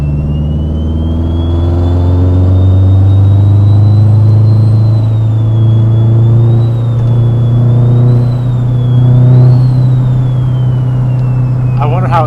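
A Subaru STI fitted with a T51R turbo pulls under load in third gear, heard from inside the car. A loud, steady engine drone holds throughout and a rising turbo whine sits above it. People talk over the noise.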